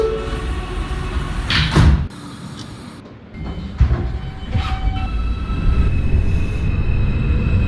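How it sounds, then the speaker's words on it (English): Closing doors of an NYC Subway R160A train in the OpenBVE simulator game, heard as a brief chime and door thump inside a steady rumbling car interior, followed by continuous running rail noise. "Stand clear of the closing doors"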